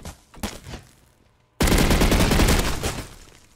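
Sustained rifle fire in the Roblox shooter Energy Assault, a dense, loud burst of rapid shots filling the second half after a few scattered quieter shots.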